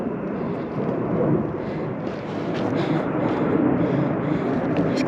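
F-35 fighter jets passing high overhead in hot desert mountains near Las Vegas, a continuous broad distant roar with wind buffeting the microphone throughout.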